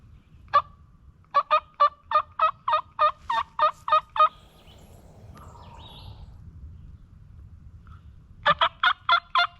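Wild turkeys gobbling during an Arkansas spring turkey hunt: a long run of rapid, loud gobbles, then a pause with faint background noise, then another burst of gobbling close by.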